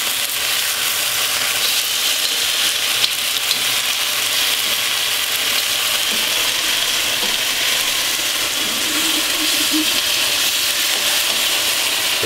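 Beef pieces sizzle steadily in a hot pan while being flipped, a continuous close frying hiss with faint scraping and no talk.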